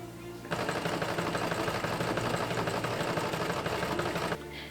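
A sewing machine stitches the edge of a casing on short cosplay bloomers, running in one steady, loud, fast-rattling burst of about four seconds that starts and stops abruptly.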